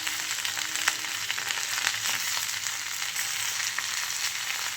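Taro stolons hit a hot pan of oil for a prawn curry and fry with a steady, dense sizzle and occasional crackles, close and continuous with no talk.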